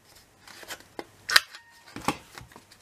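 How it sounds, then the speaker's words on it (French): A handheld paper hole punch cutting through folded paper for an album, a few sharp, close crunchy clicks separated by brief pauses with light paper rustling between them. "Je vais prendre ma perforatrice ici."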